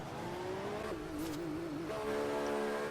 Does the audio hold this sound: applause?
no